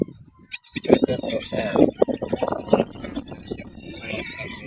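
Game fowl roosters and stags crowing at a gamefarm during a sale, a few loud calls close by mixed with overlapping conversation and clucking in the background.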